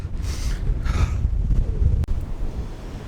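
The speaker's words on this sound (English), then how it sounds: "that was like the most ridiculous wind I've ever been in. It nearly pushed me over." Strong night wind buffets the microphone on the summit of Snowdon, a loud, continuous roar with gusty surges and no talking.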